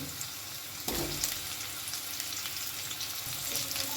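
Chopped sweet pumpkin drops into a hot pan and fries with a steady, faint hiss and sizzle, a louder burst as it lands, then quiet stirring, no voices.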